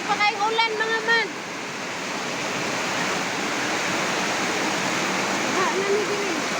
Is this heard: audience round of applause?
no